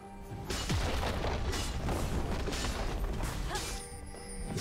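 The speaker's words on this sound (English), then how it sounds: "Blue team's turret has been destroyed" A turret is destroyed in League of Legends with a loud booming crash and rumbling debris that lasts several seconds before fading, with no talking.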